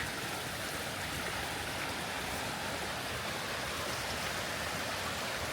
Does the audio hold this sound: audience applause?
no